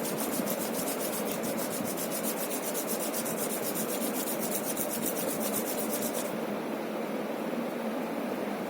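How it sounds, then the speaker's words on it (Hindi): Two hands rubbed briskly together, a steady close dry swishing that holds evenly throughout with no pauses and no voices. "दोनों हाथों को घिसोगे"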